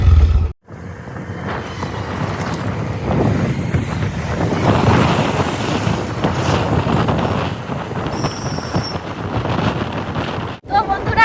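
Heavy rain during a motorbike ride, heard as a loud, steady broadband rush mixed with wind buffeting the microphone, running continuously apart from brief dropouts near the start and end.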